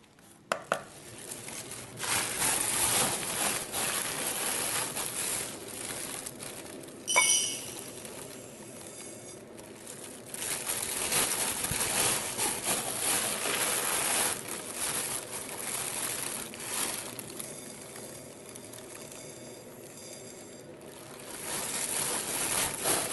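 Sugar pours onto a plate set on a kitchen scale, a long continuous granular hiss close by with brief pauses and clinks, while making lemon squash.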